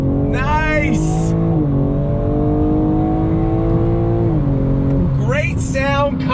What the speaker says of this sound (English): Great sound coming from that straight 6 twin turbocharged engine. I love the exhaust note